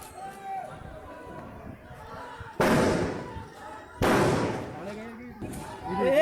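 Gunfire breaks out during an election clash at Kairana over fake voting, with two loud, sharp bangs and a third near the end, while a crowd shouts and chatters throughout.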